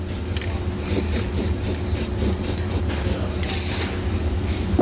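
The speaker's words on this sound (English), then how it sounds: "We're going to spray it down with some paint" A steady hiss of spray paint onto a metal hitch mounting part fills the space, with a faint rhythmic clicking and rattling underneath, close and continuous throughout.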